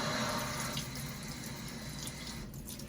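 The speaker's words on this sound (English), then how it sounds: "Just rinse off your pimento seed." Tap water runs steadily into a sink as pimento seeds are rinsed, a close continuous splashing stream that eases slightly toward the end, no voices.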